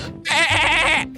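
A goat bleats once in the video game Garry's Mod, a loud, close, wavering cry lasting about a second.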